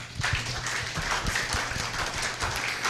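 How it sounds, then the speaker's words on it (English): An audience claps panelists off the stage at a conference session, a steady, dense round of applause that holds at even loudness throughout. "let's thank the the panelists, even as we clap them off the stage"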